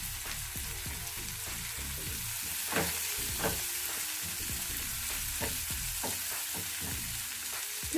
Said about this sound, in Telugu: పసుపు వేసుకున్న తర్వాత ఈ టమాటానంతా కూడా మెత్తగా అయ్యే వరకు ఉడికించుకోవాలి.